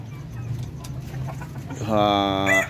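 Native Darag chickens kept as breeders cluck over steady farmyard noise while being fed corn in the morning, with a louder, close call rising near the end.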